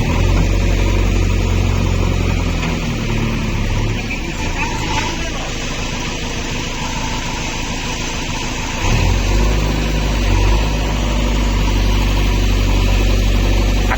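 A JCB excavator's diesel engine runs at close range, a steady low rumbling drone that dips briefly midway before resuming, with some voices in the background.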